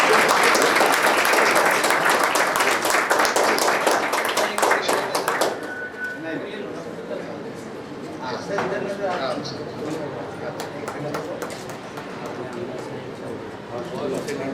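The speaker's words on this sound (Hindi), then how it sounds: "जोरदार ताली" An audience at a national seminar on children's literature claps for about five seconds, a dense burst of applause that thins out and gives way to talking.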